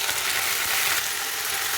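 Tomato and mint pieces stirred together in a hot pan for mint tomato chutney, giving a steady close scraping and faint sizzle with soft rattling of the spoon, no voices.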